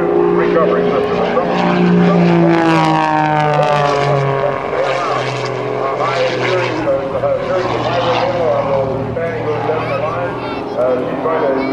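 Patty Wagstaff's aerobatic propeller airplane roars loudly at the 2005 NAS Patuxent River Air Expo, its engine tone climbing and falling continuously as she maneuvers.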